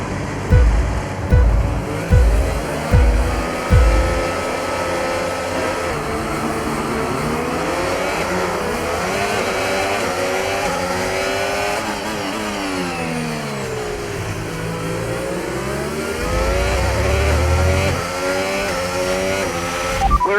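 Race cars launching from the grid at a race start in an F1 video game: a few sharp revving blips, then a loud, dense pack of whining engines climbing through the gears, sustained for the whole stretch.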